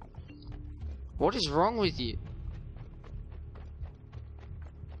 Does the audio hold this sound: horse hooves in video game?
yes